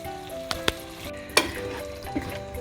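Lamb cooking over the lowest flame in a pan with yogurt and spices, giving a continuous soft sizzle broken by a few sharp utensil clicks as it is stirred.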